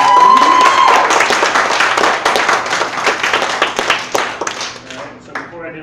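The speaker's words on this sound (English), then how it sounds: "Give another round of applause." A theatre audience at a showcase gives a round of applause, lively clapping with sharp individual claps that thins out and fades near the end, with a brief voice heard along the way.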